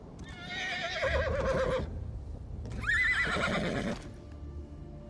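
A horse in a PS4 video game whinnies twice in succession, each call loud and shrill with a wavering pitch, followed by faint shuffling.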